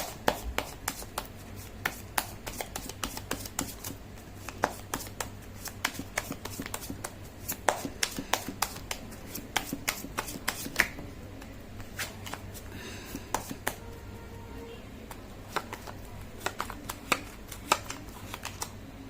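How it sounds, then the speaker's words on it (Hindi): Tarot cards are shuffled in a quiet room, a steady run of soft, crisp flicks and riffles that continues throughout with no talk. "कर लेती हूँ कार्ड की शफलिंग।"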